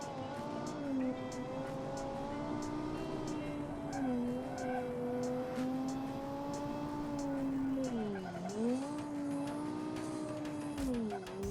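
A stock car engine drones and revs in a racing game, its pitch rising and dipping through gear changes and corners, with faint tire scrubbing beneath a steady, close-up engine tone.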